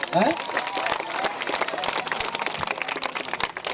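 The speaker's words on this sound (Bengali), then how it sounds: "সবাই ওনার জন্য হাততালি দেন।" An outdoor crowd at a village football final's prize ceremony claps for the player of the tournament, a brief burst of scattered applause mixed with voices talking over it.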